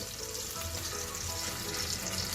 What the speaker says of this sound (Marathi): गॅसवर कढईत तेल घातलं आहे अर्धी वाटी तेल त्यात ही मॅश केलेली भाजी घालू